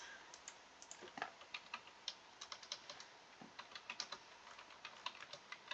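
Quiet, steady typing on a computer keyboard, irregular clicks and key taps in quick runs over faint room noise, close by with no one talking.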